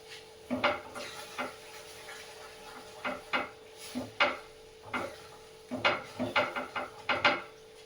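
Tamarind chutney being stirred in a pan during winter home cooking, heard as a series of scraping and knocking spoon strokes against the pan, coming in irregular bursts, close and fairly quiet with no talking.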